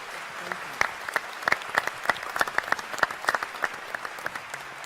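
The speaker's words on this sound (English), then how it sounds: "if everyone would give you just a round of applause for being here and for taking these questions" A forum audience claps in a round of applause, a dense patter of many hands with sharp individual claps, steady and moderately close for the full stretch.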